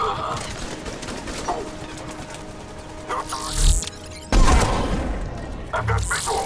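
Sniper rifle shots in a Mass Effect firefight come as a few sharp, loud booming reports set against ongoing game ambience, with bursts near the middle and toward the end.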